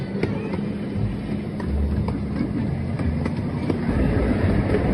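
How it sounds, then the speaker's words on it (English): A safari tour train rolls along at an African lion safari park, a steady low rumble with light rattling and occasional clicks, fairly close and continuous with no voices. "please remain seated until the trains come to a full complete stop"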